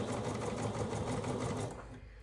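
A sewing machine stitches a tiny quilt block for a strawberry blossom pattern, running in a steady fast rhythmic whir for close to two seconds before stopping abruptly, close and alone.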